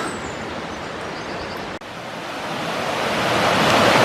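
Water rushes steadily beside an old mill, a dense broadband roar that swells slightly toward the end, with no voices.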